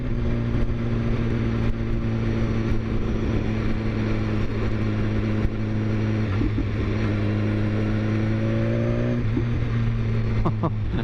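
A 2015 BMW S1000RR one-litre sports bike idles at close range around 3,000 revs, its exhaust giving a steady low drone with a brief blip of revs near the end, no talk over it.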